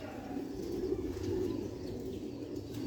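A Sialkoti kunda pigeon from an old-roof breeding line coos softly and low in a continuous murmur, fairly near but faint, with no voices over it.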